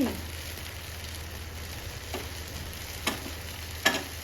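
Onion uttapam dosa batter frying thickly in a frying pan, a close, continuous sizzle with a few light scraping taps near the end.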